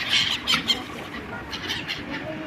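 Gulls call near a lake shore by a bridge, a flock gathering for feeding, with several high squawking cries overlapping amid outdoor background noise.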